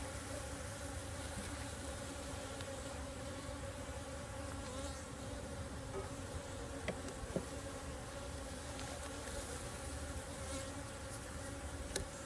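Agitated honey bees buzz steadily during a top bar hive inspection in a dense, continuous drone, close and unbroken, with a few brief clicks from handling.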